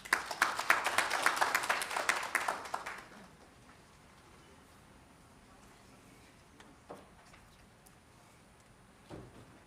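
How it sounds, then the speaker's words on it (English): Applause at a petroleum policy consultation meeting in Katima Mulilo, a burst of clapping from the gathered audience that fades out after about three seconds, leaving a quiet room with a few faint knocks. "Let's give him a round of applause."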